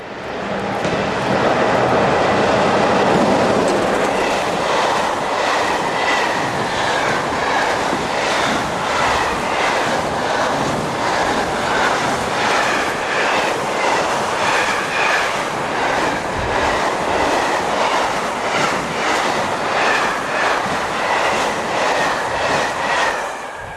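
A Belgian train heads north in 2005 on the Antwerpen–Liège main line, also a freight route to Germany, passing close and loud with a sustained roar and rhythmic wheel clatter that fills the whole stretch without letup.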